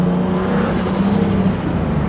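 A car engine revs hard and steadily for about two seconds, a loud continuous roar with a turbo whine riding on top.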